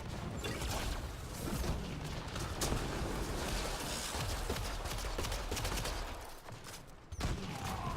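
Gunfire in Mass Effect: Andromeda multiplayer, a Human Sentinel firing a Sidewinder amid a sniper duel, with dense overlapping shots and booms running continuously at close range, briefly dipping near the end before another blast.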